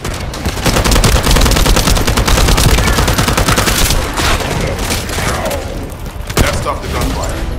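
Sustained automatic gunfire from the sci-fi shooter video game The First Descendant, loud and dense bursts of rapid shots with occasional heavier thuds, filling the scene continuously.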